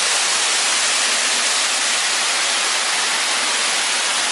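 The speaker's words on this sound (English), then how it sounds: "First thing you see is this cool waterfall." A waterfall in a walk-through zoo rainforest exhibit gives a loud, steady, broadband rush of falling water that stays constant throughout with no talk.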